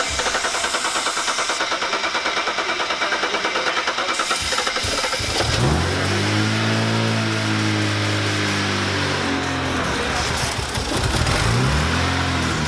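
A 2008 BMW 135i with a failing high-pressure fuel pump cranks and catches at about five seconds, then idles and revs in several rising and falling sweeps, loud and close, after a steady whirring prime.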